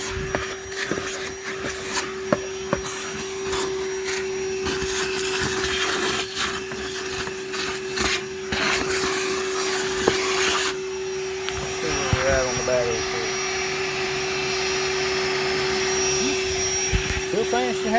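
A Ridgid dual 18-volt cordless vacuum, model HD0918, runs continuously as it sucks up dog hair, a steady close whine with a constant tone, broken by occasional clunks and rattles as debris passes through, with someone speaking at times over it.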